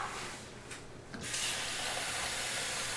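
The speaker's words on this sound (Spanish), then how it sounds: "Vamos a ponerlos aquí y los vamos a llenar de agua." Tap water runs steadily into a bowl of dried beans set to soak for cooking, a continuous hissing splash that starts softly, briefly thins, then settles into a louder, even stream with no talking.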